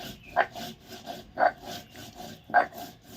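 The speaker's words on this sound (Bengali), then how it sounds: "অন্যদিকে শিলের মধ্যে আমি কিছুটা পোস্ত, পরিমাণ মতন একটু কালো সর্ষে আর 3 কোয়া রসুন, সাথে কিছু কাঁচা পাকা লঙ্কা, এটাকে আমি" Poppy seeds, black mustard, three garlic cloves and green and ripe chillies are ground on a grinding stone, with steady rasping strokes repeating about once a second, close and clear.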